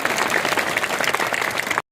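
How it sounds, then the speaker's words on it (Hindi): An audience at a school event applauds a child, a dense burst of clapping from many hands that cuts off abruptly after under two seconds. "अरे तालियां तो बचाओ बच्चे के लिए।"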